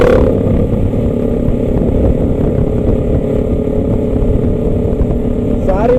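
Several motocross bikes idle and rev their engines and exhausts together at an off-road riding meet, a loud, steady mechanical drone that fills the scene from start to end, with voices underneath.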